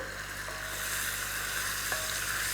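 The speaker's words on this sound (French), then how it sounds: "Ça grésille bien" Steady, continuous sizzling of food frying in a pan, a bright crackling hiss throughout with faint scraping as it's stirred.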